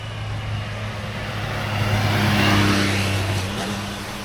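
A motorcycle passes by on a street during an outdoor walk, its engine hum rising to a peak midway and then receding, steady and moderately loud with no talking.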